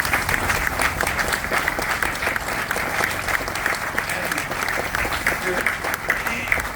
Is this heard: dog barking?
no